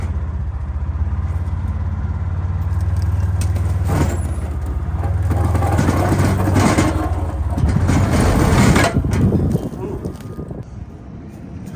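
A Rayco C120 rubber-tracked brush-clearing machine running at an industrial clearing site, a loud steady diesel drone that swells and roughens midway, with voices talking over it.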